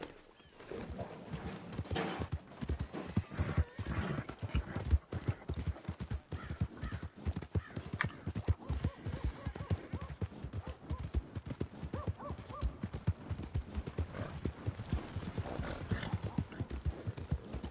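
Rapid, rhythmic hoofbeats of a horse in the video game Red Dead Redemption 2 clip-clop continuously over a long stretch, evenly paced and fairly close, without talk.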